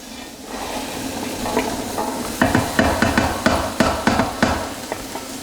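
Chunks of celery and carrots cook in a hot pan on high heat for a beef stew, giving a steady sizzle with a run of sharp stirring clatters and knocks partway through.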